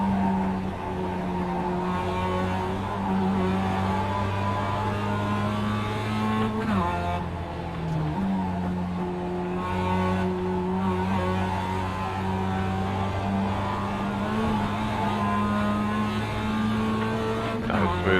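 A 2-liter Mazda Miata race car fitted with high-compression pistons and connecting rods runs hard around a track, its engine note steady and loud for the whole stretch, with brief dips and pitch changes as it shifts and brakes for corners.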